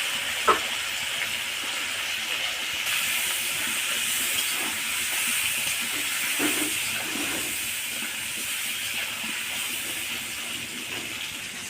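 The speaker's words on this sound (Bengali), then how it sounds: "ভাজার সময় নুন আর হলুদ দিয়ে ভেজে নেব" Potato pieces fry in hot oil with salt and turmeric, producing a steady, close hiss of sizzling that runs unbroken, with a few faint clinks and bubbles.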